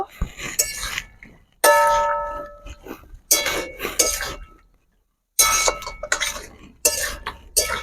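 Metal spoon clinking and scraping against a pot as fried potatoes are mixed into curry gravy with drumsticks, in short bursts of bright clanks separated by pauses.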